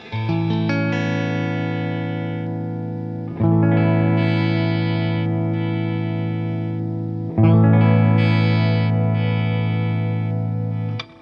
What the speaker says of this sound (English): let's try super clean and beautiful with lots of reverb.